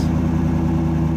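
A Chevrolet truck fitted with a Chevrolet Performance intake and exhaust idles close by with a deep, throbbing, even rumble that holds steady throughout.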